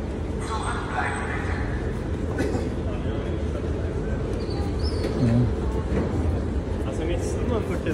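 A long train pulls away from a station with a low, continuous rumble and rolling noise that swells slightly midway, close and steady, while people talk over it and pigeons coo nearby.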